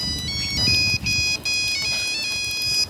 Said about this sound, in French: c'était une sonnerie de téléphone